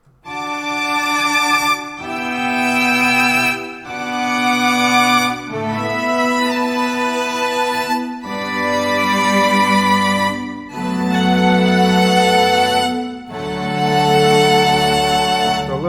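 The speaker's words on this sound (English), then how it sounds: "that's just a straight up string section" Sustained string ensemble chords from a VSL virtual string library, bowed and full, changing every couple of seconds in a slow progression, played loud with no voices.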